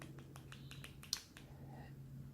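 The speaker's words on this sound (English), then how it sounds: "it has a very definite keyboard click sound." Key clicks on an Azulle Lynk remote keyboard, a quick run of about eight faint, sharp taps in uneven rhythm with one louder click, then quiet over a low background hum.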